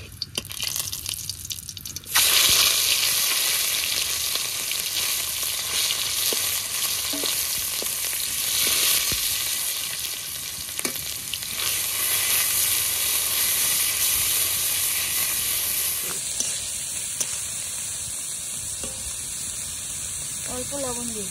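Nigella seeds sizzle and fry in hot oil for a Bengali banana stem paste, a loud, steady crackling hiss that continues throughout, with a brief stir or drip near the start.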